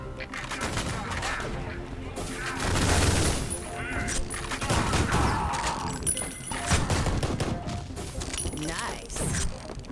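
Rapid machine-gun bursts and grenade explosions from the first-person shooter Ion Fury, loud crackling fire with heavy booms in quick succession, while someone talks over the gameplay.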